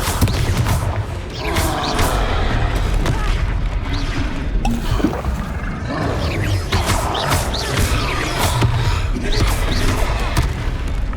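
Confringo blasting spells explode repeatedly during a Hogwarts Legacy battle, loud booming blasts and roaring impacts over constant dense combat noise throughout.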